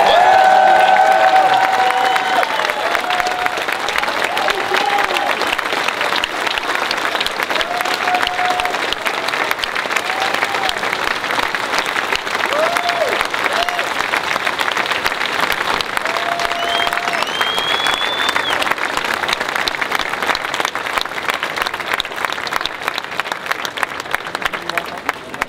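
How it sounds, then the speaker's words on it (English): A crowd at a political rally applauds steadily for the next president, a long, loud, sustained roar of clapping with scattered cheers and shouted voices mixed in. "Ladies and gentlemen, one more round of applause for the next president."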